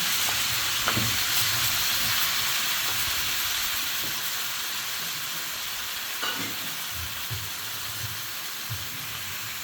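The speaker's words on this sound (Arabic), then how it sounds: "ننزل دلوقتي بالصلصه يا بنات." Tomato paste sauce sizzles in a pan while meat and potatoes are cooked. A loud, steady hissing fry runs throughout, with faint clinks and stirring underneath and no talking.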